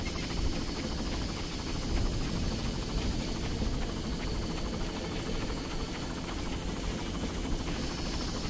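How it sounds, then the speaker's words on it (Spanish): A helicopter in Far Cry thrums with loud, continuous rotor chop and engine roar, staying close and steady throughout with no voices. "Y escucho helicóptero."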